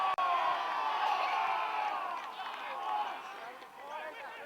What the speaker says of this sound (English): Crowd calling for a free to the Wicks, but nothing from the umpire.